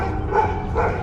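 A tiny abandoned puppy gives two short, close whimpering yips in quick succession, alone over a steady background hiss.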